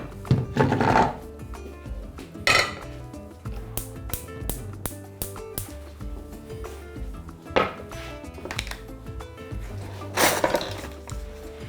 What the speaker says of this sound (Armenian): Մեծ կաթսա ենք դնում